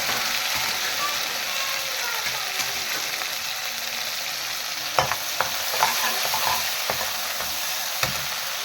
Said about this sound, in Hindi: प्याज हमारे फ्राई हो चुके हैं। अब इसमें डालते हैं टमाटर।